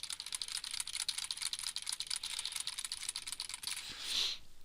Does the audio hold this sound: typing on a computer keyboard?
yes